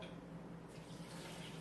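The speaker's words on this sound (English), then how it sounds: "But you take the water, right? It's so good. And you put it in your blender." Steady running water splashes and pours continuously into a blender, close by and fairly quiet, with no voices.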